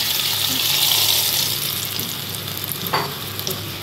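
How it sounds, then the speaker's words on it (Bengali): A shrimp mixture hisses loudly as it hits hot oil, a bright continuous sizzle that eases slightly over a few seconds, with a brief clink of a utensil near the end. "এই মিক্সারটা তেলের মধ্যে ঢেলে দিলাম"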